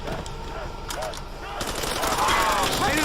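Rapid automatic fire from a Galil rifle in Call of Duty: World at War on a custom zombies map, a sustained close burst of shots layered with game effects and someone talking over it.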